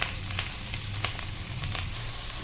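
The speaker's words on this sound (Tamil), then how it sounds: "வெங்காயம் அண்ட் கருவேப்பிலை போட்டாச்சு." Onions and curry leaves fry in hot oil with a continuous close sizzle, crackling in small bursts and soft stirring scrapes underneath.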